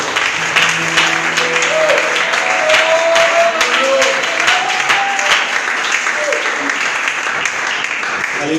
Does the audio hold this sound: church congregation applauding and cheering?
yes